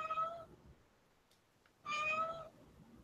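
A house cat gives two clear meows, close and fairly loud, separated by a short quiet gap.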